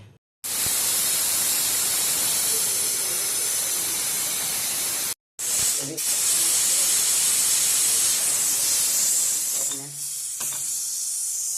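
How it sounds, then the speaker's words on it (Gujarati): A pressure cooker boiling drumsticks gives off loud, continuous steam hissing close by, broken by a short pause near the middle, then fading slightly at the end with brief clatter. "કુકર ચડાવી દઈશું બાફવા માટે."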